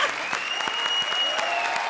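Brief burst of studio audience applause on a comedy show stage, dense clapping lasting under two seconds at a steady, moderate level.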